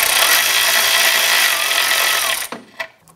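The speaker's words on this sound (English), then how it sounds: "I'm gonna go ahead and remove our other lower heat shield bolt" Power tool loosening a lower heat shield bolt on a 2004–2008 Acura TL, a steady close whirring rattle for over two seconds that cuts off, followed by a couple of brief metallic clicks.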